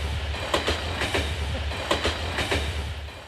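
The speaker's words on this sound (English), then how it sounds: "Nice little train ride we're on." Train riding along rails, with a continuous low rumble and a rhythmic clickety-clack of wheels over rail joints, moderately loud and steady, with no talking.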